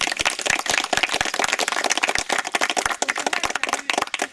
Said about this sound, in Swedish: Så jag tycker vi tar upp en applåd.